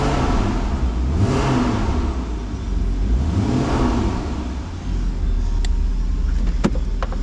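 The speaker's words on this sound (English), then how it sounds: "we'll put it into sport and we'll give it a little rev up to 3000 RPM" Two close engine revs to 3000 RPM from a Porsche Boxster 981 2.7 PDK in sport mode with sport exhaust climb and drop over a throaty idle, followed by a few sharp clicks and mechanical whirs as the rumble continues.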